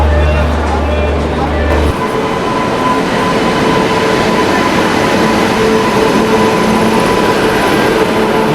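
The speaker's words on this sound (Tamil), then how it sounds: "மகாநகரி எக்ஸ்பிரஸ் அரைவ் ஆயிட்டு இருக்குங்க." The Mahanagari Express, running from Mumbai to Varanasi, pulls into a station with a loud, continuous rumble and rail noise after a brief low hum. People talk over the train's sound.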